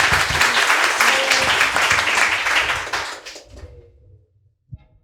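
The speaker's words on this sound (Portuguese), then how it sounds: "Então, palmas para Thaís Cesena." Audience applause at a panel event, a dense burst of clapping from many hands that holds steady for about three seconds, then thins out and fades to quiet, with a couple of soft knocks at the end.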